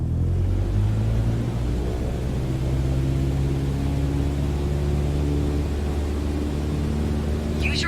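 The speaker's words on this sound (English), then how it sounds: "Apply full power and I'll walk you through the takeoff as we go." A light training aircraft's engine at full takeoff power in Microsoft Flight Simulator 2020: a steady, loud, droning roar with a constant hum, holding evenly throughout with no speech.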